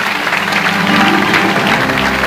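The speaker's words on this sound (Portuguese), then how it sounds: "E a sala levanta-se, toda ela para aplaudir o Rui Costa." A whole hall of people rise to their feet applauding Rui Costa at a 2014 sports awards gala in Póvoa, dense steady clapping filling the room with no voices over it.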